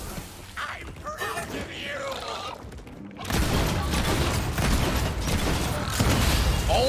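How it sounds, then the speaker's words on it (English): An explosion goes off in the video game Tiny Tina's Wonderlands, a sudden loud burst that cuts in partway through and gives way to a dense, rumbling crackle over the game's background sound. "that was a nice little explosion"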